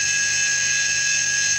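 A Siemens AC servo motor on a test run at 7000 RPM, undergoing an encoder health check, gives a steady high-pitched electric whine with a constant tone and no variation, loud and close throughout.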